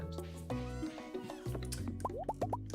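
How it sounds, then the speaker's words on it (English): Plants are watered in the Stardew Valley video game, giving a short run of bright, bubbly water drips and plops. Several quick droplet blips come in sequence over background game music. "let's water our plants briefly now"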